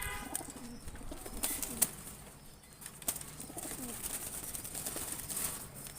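Pigeons coo softly at a distance amid light rustling and occasional wing flaps, a low, faint murmur throughout.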